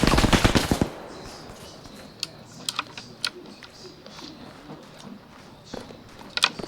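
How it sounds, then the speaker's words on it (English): A rapid burst of automatic gunfire in the military shooter Arma 3 opens loudly, then gives way to scattered, fainter single shots and sharp clicks over a low background hum. "I don't know where he's shooting from"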